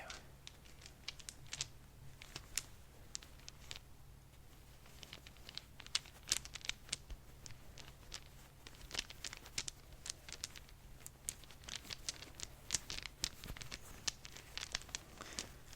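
Small hard Wiz Dice polyhedral dice clatter and rattle in a bag, faint and close, in irregular bursts of clicks that go on throughout.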